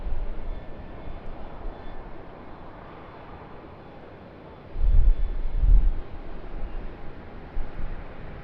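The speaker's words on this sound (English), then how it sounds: "It's a Jetstar Airbus" A Jetstar Airbus A320-200 airliner at Sydney Airport, its engines a low steady roar that swells louder partway through, mixed with wind buffeting on the microphone.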